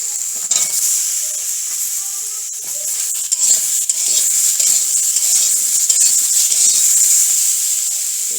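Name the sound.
eggplant frying with potatoes in a pan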